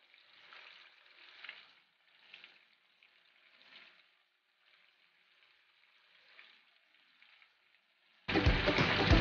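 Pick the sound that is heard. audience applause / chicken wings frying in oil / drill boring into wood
chicken wings frying in oil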